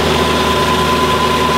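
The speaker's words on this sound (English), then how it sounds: "So this is a pump." Tractor engine running steadily through its power takeoff to drive a water pump that moves about 110 gallons a minute, a loud, continuous droning hum with a steady tone and no pauses.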